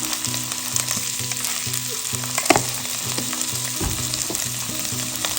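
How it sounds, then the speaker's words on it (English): Mushrooms sauté in a hot pan for a chili garlic pepper stir fry: a loud, steady close sizzle runs throughout, broken by occasional scraping stirs, with no talking. "Let's saute this. It's going to be very quick because mushroom doesn't take long to cook."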